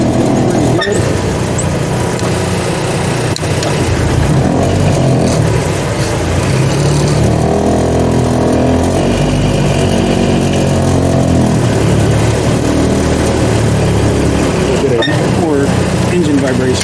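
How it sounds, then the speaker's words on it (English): An Iron Duke-powered CJ-3B Jeep on the road with European motor mounts, giving a loud steady engine drone and vibration throughout, while a person talks over it. "Engine vibration noise, I guess because of those European motor mounts."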